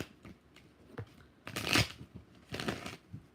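Tarot cards being shuffled by hand in three quick riffling bursts, close and crisp, with soft taps and card handling between them in a quiet room.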